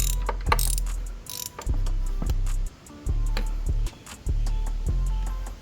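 Ratchet wrench on an extension with a 5/8 socket loosening a spark plug on a Suzuki GSX-R 750: bursts of rapid close clicking repeat in several strokes, separated by brief pauses and a few metallic knocks, with no talking.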